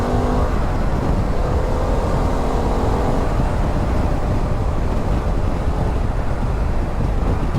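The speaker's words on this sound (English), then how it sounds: "I'm getting pretty buffeted by wind here actually" Steady, heavy wind roar buffets the rider of a 2022 Harley-Davidson Pan America with its 1250cc engine, cruising on a motorway at around 70-75 mph; the rushing noise is loud and continuous throughout.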